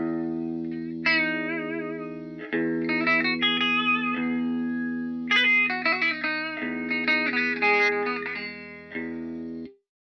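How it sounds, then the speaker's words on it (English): An electric guitar plays slow twangy notes through two flanger plugins, giving a buzzing, sitar-like drone that rings out and stops abruptly. "I added a second flanger to even further accentuate that sound"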